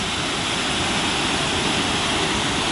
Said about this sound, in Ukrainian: А внизу тихенько собі річка тече, а тут бурна, бурна.